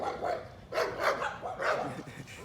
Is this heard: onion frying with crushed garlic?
no